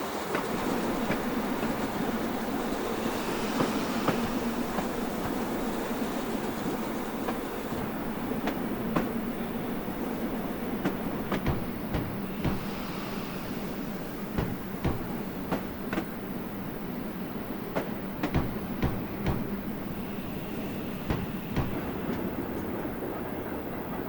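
Steam train Tor Valley, a rebuilt Battle of Britain class locomotive with teak carriages, departing for Bridgnorth in Train Simulator Classic. A steady rolling rumble runs throughout, with rhythmic wheel clicks on the rail joints and no talk.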